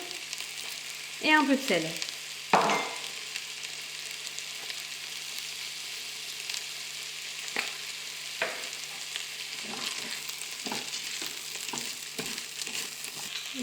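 Rice, pepper and garlic sautéing in a Cookeo multicooker, a soft continuous sizzle with occasional stirring scrapes and clinks, under a voice speaking now and then.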